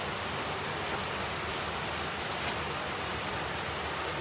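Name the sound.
rain falling outside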